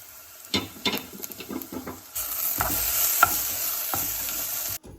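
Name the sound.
stirring food cooking in a pot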